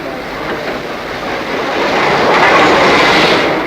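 A loud, steady rumble of the North Briton train rolling into York station, with broad rushing noise that swells slightly as it nears.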